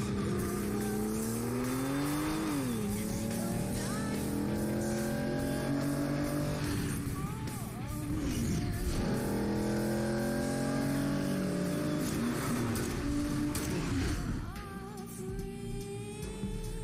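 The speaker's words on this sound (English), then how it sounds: "a quick rundown of the first scene, the car chase." Engines rev and race continuously through a video game car chase from Quantum of Solace, with swooping pitch changes, tire squeals and passing cars over a steady loud roar, no talking.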